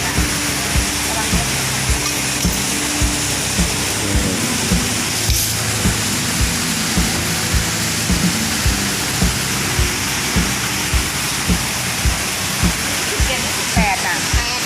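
Steady heavy rain hisses loudly and continuously in a city street, with a regular rhythmic thumping running under it throughout.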